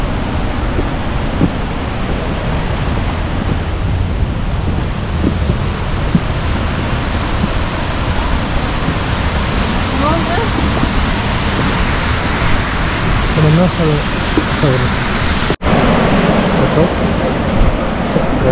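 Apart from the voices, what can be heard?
river flowing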